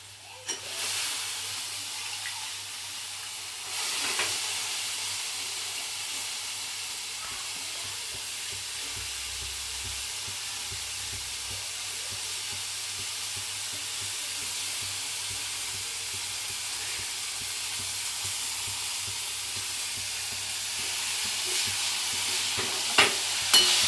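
Cluster beans (gavar) sizzle steadily in a hot pan with oil, a continuous close frying hiss with occasional stirring scrapes and no talking.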